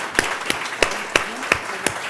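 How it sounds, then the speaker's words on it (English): At a UT Health San Antonio Forefront event, sparse audience clapping comes as a few distinct, evenly spaced claps about three per second, with faint room murmur between them. "if we could just give them a round of applause before questions"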